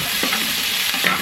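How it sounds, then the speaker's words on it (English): Scallions sautéing over medium heat in a pan while making fried dumplings with cabbage and corned beef, a steady close sizzle with light stirring scrapes throughout. "And add my scallion in there,"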